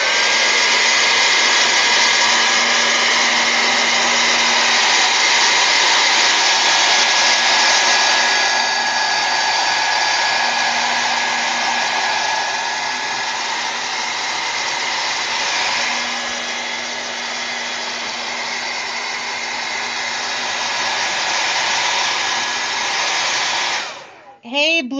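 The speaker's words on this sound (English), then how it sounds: "So excuse the noise while I blow dry." A handheld blow dryer drying a freshly painted sunflower canvas roars in a loud, steady whir that runs for a long stretch, shifting slightly in pitch before cutting off abruptly at the end.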